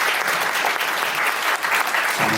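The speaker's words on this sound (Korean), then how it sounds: "박수 부탁드리겠습니다" At a Korean wedding ceremony, guests give loud, full applause. Many hands clap together in a thick, continuous roar that stays even from start to finish.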